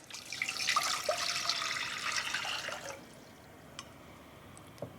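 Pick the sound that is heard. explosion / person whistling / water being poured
water being poured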